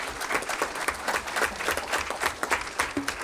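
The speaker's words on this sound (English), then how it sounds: "So we should give them a big round of applause because" An audience at a school district board meeting claps for a high school mock trial team, a steady, moderately loud patter of many hands that continues throughout.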